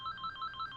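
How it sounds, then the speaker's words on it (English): A phone ringtone in the video game Angels With Scaly Wings chirps in a quick repeating electronic trill, four short bursts at moderate volume with no voices. "that is the same fucking sound my phone makes when it rings"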